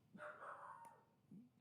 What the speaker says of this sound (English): She barks at everything that moves.